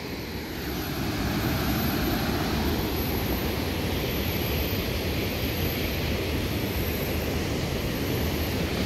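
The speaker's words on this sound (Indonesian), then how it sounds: "Sungainya bergelora, guys." A fast river in South Sulawesi rushes and surges below a suspension bridge, a loud, constant roar with no voices.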